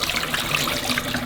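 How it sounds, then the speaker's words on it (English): Water poured from a De'Longhi Magnifica S coffee machine's condensate tray splashes and trickles steadily into a sink, close and continuous for a short moment. "I'm just going to pour this out."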